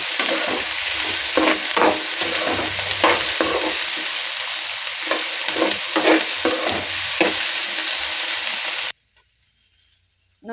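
Chopped capsicum frying in hot oil for chitranna, a steady loud sizzle broken by repeated scraping stirs of a spatula, then cutting off abruptly into near silence.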